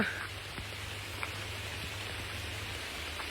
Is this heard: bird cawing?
no